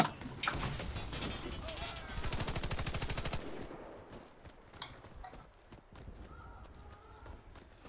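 Gunfire in the online shooter Warface: a rapid, loud burst of automatic fire rattles for over a second, followed by scattered quieter shots and faint voices in the background.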